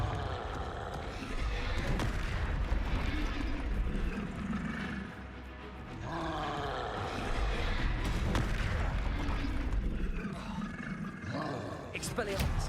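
Confringo blasting spells fire in Hogwarts Legacy as loud, sustained roaring blasts and booms, layered under battle chatter and shouted voices throughout.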